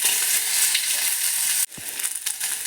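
Sliced onion goes into hot coconut oil with fried byadagi chillies, and a loud, bright sizzle breaks off with a sudden thump before resuming with stirring crackles, all close and without speech.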